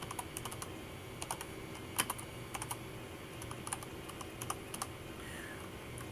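Fingers tap on a computer keyboard in quick, irregular bursts of soft clicks, heard close but quiet against a faint background hum.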